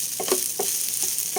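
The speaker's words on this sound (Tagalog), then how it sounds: "Pinapula ko lang kunti yung bawang mga tuloy." Garlic fries in a pan for rice, a steady close sizzle with faint scraping stirs breaking through now and then.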